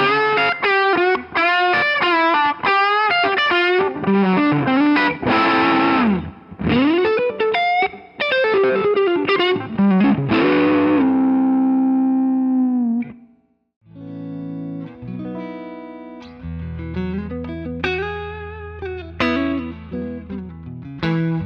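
Mario Guitars electric guitar played through distortion and chorus effects, loud and continuous with rapid picked notes and chords, a brief drop near the middle, then sustained ringing chords over a low held note.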